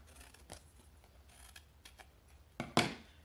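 Scissors cutting partway through a square of cardboard for a craft build, giving a couple of quiet snips followed by one louder, crisp cut near the end, with no talking.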